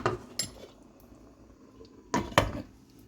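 Two clattering metal knocks, one brief and one in a quick double burst, as a lid is set down on a pot of crab curry, with quiet kitchen background between.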